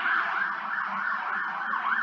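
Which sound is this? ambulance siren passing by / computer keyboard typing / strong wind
ambulance siren passing by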